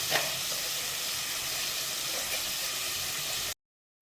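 Vegetables with coriander leaves and a little salt sauté in a hot pan, giving a steady, close sizzling hiss that holds evenly for about three and a half seconds before cutting off abruptly into silence.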